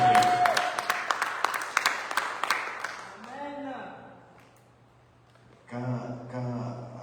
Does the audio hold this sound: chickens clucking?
no